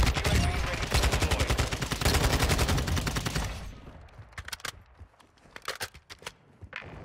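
Rapid, loud automatic rifle fire in Modern Warfare 2 fills the first few seconds as a dense burst. Scattered single shots and distant pops follow, fainter and more spread out.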